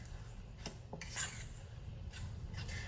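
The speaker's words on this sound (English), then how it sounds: "you're going to want to go ahead and give that a good mix" Banana bread batter is mixed into dry ingredients in a bowl: a utensil scrapes and clinks against the bowl in a few quiet, uneven strokes, alone and close.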